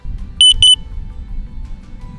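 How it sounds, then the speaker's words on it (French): Double high-pitched electronic beep from the parachute unit fitted to a DJI Mavic 3 drone, two short clear tones in quick succession over faint low background hum, no talking. "un double bip comme celui-ci sera émis à chaque fois"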